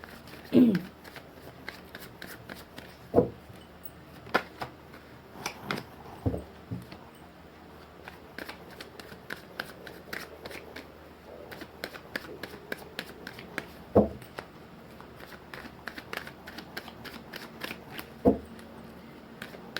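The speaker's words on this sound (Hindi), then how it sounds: "मैंने कर लिया कार्ड्स की सफलिंग" Tarot cards are shuffled by hand, producing repeated soft riffling flutters and sharp taps at close range, with a few louder slaps scattered across the stretch.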